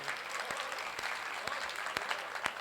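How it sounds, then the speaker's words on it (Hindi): Audience applause at a Hindi poetry recital, a steady wash of many hands clapping at moderate distance, with a few sharper individual claps standing out over the dense texture. "तालियां बजाइए"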